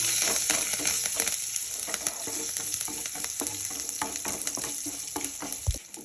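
Garlic and curry leaves fry in a pan for red chutney, giving a steady, close, loud sizzle with faint stirring clicks throughout and no voices.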